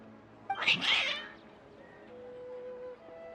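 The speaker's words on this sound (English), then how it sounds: "Your cats seem pretty worked up." Agitated cats in the video game Genshin Impact let out a loud, strained meow and caterwaul lasting about half a second, followed by quieter game ambience with a thin sustained tone.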